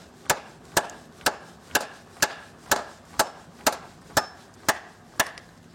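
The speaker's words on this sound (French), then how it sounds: "Là, ça a du mal à fendre le bois." A thin Tramontina machete blade is batoned into wood, giving eleven evenly spaced, sharp knocking strikes about half a second apart, close and loud with nothing else around them.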